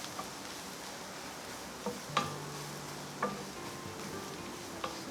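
Turmeric powder being sautéed in a pan for a chayote squash thoran, heard as a soft steady sizzle with a few light spatula taps and scrapes.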